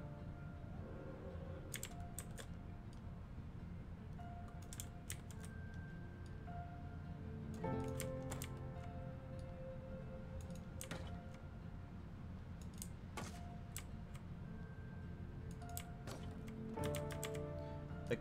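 Steady typing on a computer keyboard at a desk, with continuous soft clicks and occasional louder keystrokes, close and quiet throughout with no talk.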